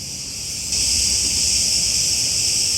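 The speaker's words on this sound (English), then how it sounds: "The cicadas outside, the sound is crazy." Cicadas buzzing outdoors in Greece: a steady, dense, high-pitched drone that holds unbroken throughout and grows slightly louder partway in.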